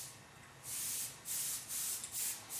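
Airbrush spraying dark brown paint to refine hair strands on a fleshtone airbrush painting, heard as short repeated hissing bursts of varying length, close and fairly quiet, with no talking.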